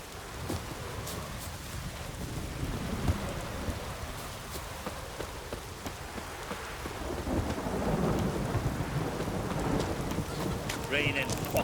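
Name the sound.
heavy rain and thunder in video game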